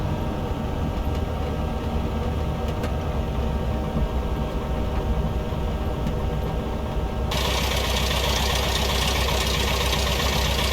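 Piper Cherokee light aircraft engine run up to full throttle for takeoff, a loud steady droning roar heard from inside the cockpit that grows harsher and brighter partway through.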